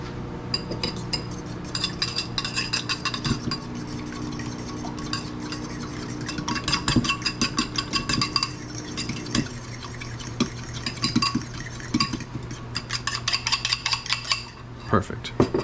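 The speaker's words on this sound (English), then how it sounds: "And this one we're gonna whisk." An egg is whisked in a bowl for keto fathead dough, a fast steady rattle of metal against the bowl, close and clear, pausing briefly before resuming.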